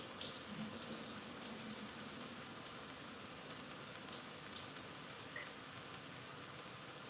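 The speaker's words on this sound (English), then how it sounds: "I'm going to strain my wild rice, or just drain it using my hand" Steady running water while wild rice is drained by hand for chicken and wild rice soup, a continuous close splashing rush with small spatters throughout, no talking.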